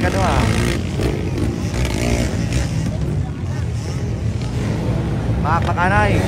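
Enduro motorcycles race in the final heat of a local series at Carmen, Cagayan de Oro, their engines buzzing and revving at a distance beneath a commentator's excited talk and crowd noise.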